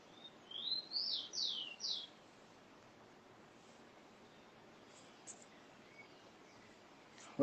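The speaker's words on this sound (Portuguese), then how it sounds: "Tá escutando os passarinhos aí da montanha, Mari?" Birds singing outside a window in the mountains, a few clear chirping phrases in a quick burst early on, then faint scattered calls over quiet background hiss.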